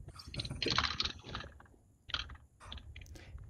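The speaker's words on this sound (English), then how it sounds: "I can hear him typing" Keys on a computer keyboard are tapped in quick, irregular clusters, faint and close, during an online call, with short pauses between bursts and no talking.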